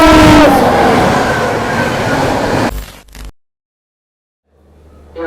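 The Prayagraj–Bhiwani Kalindi Express roars past from behind, its horn sounding at the start over a loud, close rumble of rolling wagons, before the sound drops abruptly to near silence and a faint rumble returns.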